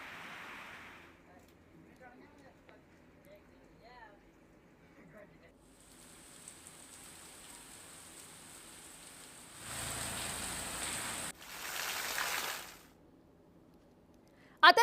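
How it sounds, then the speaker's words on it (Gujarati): Heavy rain shower in Jetpur town, Gujarat: a steady broadband downpour rises loudly for a few seconds near the end, after quieter stretches where a voice talks over faint background noise. "જેતપુર શહેરમાં ધોધમાર વરસાદ પડ્યો છે"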